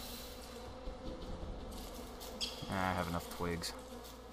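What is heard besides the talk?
bees buzzing in a video game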